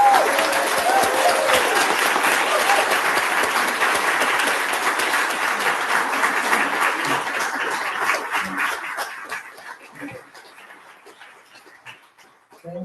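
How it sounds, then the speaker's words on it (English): Applause for a poet at a poetry reading, sustained clapping from an audience for several seconds before tapering off into scattered claps and near quiet. "One more round of applause for Misha Solomon."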